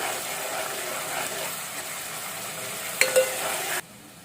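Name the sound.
ginger garlic paste frying in pan for gongura prawn curry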